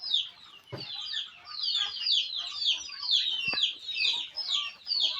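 Quail birds in a coop running around for food, a dense chorus of high chirping calls with soft scuffling and a couple of thumps, close and continuous.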